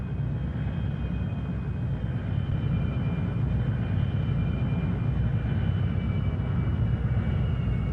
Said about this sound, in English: Me-262 student pilot begins his taxi.